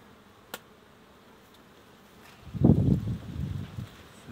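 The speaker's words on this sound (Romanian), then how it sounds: "O albină blândă." Honeybees buzz at a hive frame during a colony check, a steady low hum swelling up close for about two seconds after a faint click, then fading.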